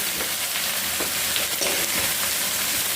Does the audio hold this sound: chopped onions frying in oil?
yes